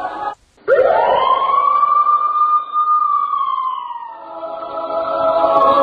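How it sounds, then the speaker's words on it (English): A siren wails nearby, sweeping up into a long, loud sustained tone that slowly falls away. "You hear the siren."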